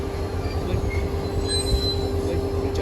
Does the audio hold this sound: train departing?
yes